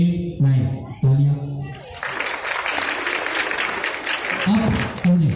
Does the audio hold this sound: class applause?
yes